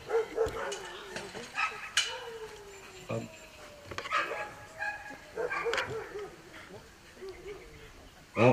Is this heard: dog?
yes